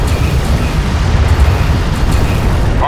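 A hostile strike craft exploding in the game Homeworld: Deserts of Kharak, a loud, sustained rumbling boom with dense low-end roar filling the whole stretch.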